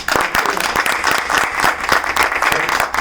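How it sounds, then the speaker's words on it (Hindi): An audience at an Independence Day poetry gathering breaks into loud, continuous applause, a dense patter of many hands clapping close by without pause. "तो एक बार जोरदार तालियां"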